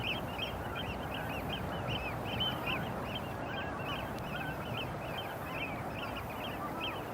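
Large winter flocks of birds feeding on tidal mud banks make a dense chorus of goose-like honks and calls, many overlapping voices at a distance over a steady background murmur, with no talk.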